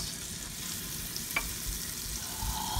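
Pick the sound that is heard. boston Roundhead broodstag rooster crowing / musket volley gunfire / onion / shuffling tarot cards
onion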